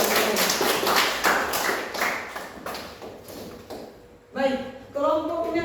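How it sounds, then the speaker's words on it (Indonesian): A classroom of students claps for about four seconds in a dense, even burst of applause, which fades and gives way to a teacher speaking. "Tepuk tangan untuk kalian."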